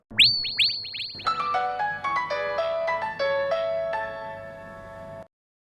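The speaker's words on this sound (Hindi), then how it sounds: "किसी भी वक्त शोरूम से हमारे आदमी का फोन आता होगा।" A mobile phone rings with a loud electronic ringtone: a rapid chirping burst followed by a stepped synthetic melody, alone with no talking, stopping abruptly after about five seconds.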